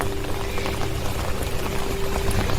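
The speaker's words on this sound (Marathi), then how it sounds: "चिपळूणच्या रस्त्यावर पूर्ण पाणी आहे." Floodwater fills a road in Chiplun, giving a steady, loud rushing and churning wash that runs without a break.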